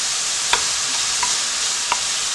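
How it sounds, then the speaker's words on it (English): Onions with salt sizzle in a pan, a steady dense crackling hiss with a few faint clinks of stirring, close and alone. "I can already hear them start to sizzle"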